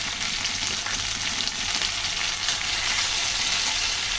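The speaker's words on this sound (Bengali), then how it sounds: "বাদাম দিয়ে আমি অল্প একটু সময় কষিয়ে নেব" A spiced masala paste with ground peanuts and cashews fries in a pan, giving a loud, continuous close sizzle with light stirring scrapes and no talking.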